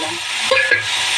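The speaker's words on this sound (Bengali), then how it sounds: "দেখো এবারে আমি এতে একটু কালো জিরা ফোড়ন দিলাম, আর এই দেখো টমেটোটা ঘষে রাখছি, এসে দিয়ে দিলাম" Grated tomato hits hot oil tempered with black cumin, giving a steady, close sizzle with a couple of brief louder spurts as it lands, and no talking.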